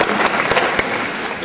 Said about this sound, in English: Let's all give him a hand.